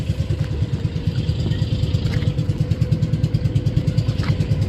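A tour boat engine chugs steadily at close range on a dolphin-watching trip off Bohol, a low rhythmic throb with a faint mechanical clatter and some distant voices.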